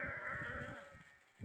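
A sheep on a small farm lets out a single close bleat with a wavering, nasal tone, followed by a short soft sound at the end and no talking.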